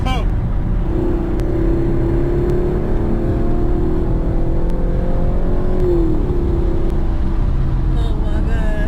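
Camaro ZL1 1LE and 2016 Camaro SS racing on a track day, a loud sustained engine roar with rising and falling pitch from a single pass, dense and continuous with some wind or road noise beneath.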